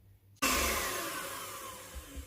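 An electric mixer beating ice cream mixture switches on abruptly after a short quiet moment, then runs as a steady, loud whirring drone that eases slightly in pitch, close up.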